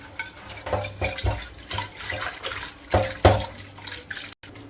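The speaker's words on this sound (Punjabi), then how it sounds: "ਹੁਣ ਤਾਂ ਧੋ ਕੇ ਦਿਖਾਉਂਗੀ ਤੁਹਾਨੂੰ" Tap water runs over a pressure cooker being washed by hand, a close steady splashing stream broken by irregular clanks and sloshes as the metal pot is rinsed, with a brief cutout near the end.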